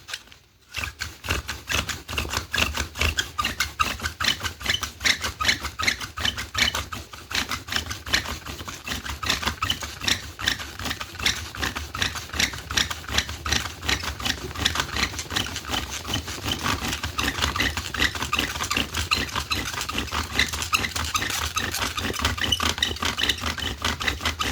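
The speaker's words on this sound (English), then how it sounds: "This spindle's not gripping enough anymore, but it is starting to smoke again, so I'll continue for a second." A wooden bow drill spindle spins for a friction fire in a fast, steady back-and-forth rasp, a dense rhythmic scraping and squeaking that runs continuously and close up for over twenty seconds.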